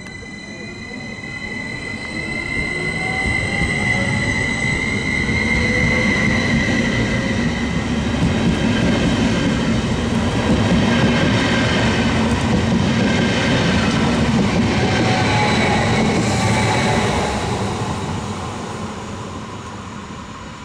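A double-decker passenger train on Hungary's line 150 between Ferencváros and Délegyháza rumbles past up close, wheels clattering and squealing, swelling to a steady roar and then fading away.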